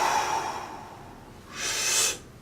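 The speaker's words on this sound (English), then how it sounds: "So Reichian breathing goes." Someone performs a Reichian breathing exercise, drawing a long audible breath in and then releasing a loud, forceful exhale close to the microphone, with no talking.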